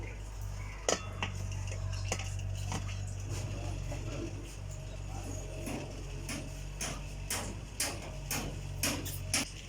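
A steamer pot for making bhapa pitha is set onto a rice cooker of boiling water, with repeated metallic clinks and clattering of dishes over a steady low hum.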